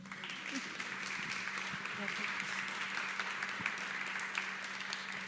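An audience at a poetry event claps after a speaker asks for applause, a soft, steady patter of hands heard from a distance alongside a low constant hum.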